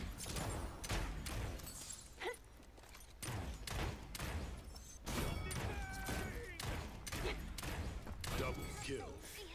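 Rapid bursts of gunfire from Lian in the online shooter Paladins, sharp repeated shots in quick clusters over dense game effects and thuds, with voices heard between the volleys.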